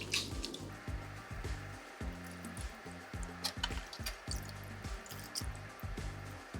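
Running tap water splashes and trickles over a glass bottle as sticky label residue is scrubbed and rinsed away, a soft, close, steady wash with faint squishy rubbing and a low rhythmic thumping underneath.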